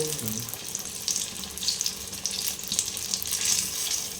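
Battered pumpkin fritters deep frying in hot oil, a continuous close bubbling hiss with crackly pops flickering through it, no talking over it.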